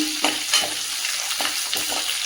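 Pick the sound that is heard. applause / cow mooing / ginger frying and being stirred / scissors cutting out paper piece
ginger frying and being stirred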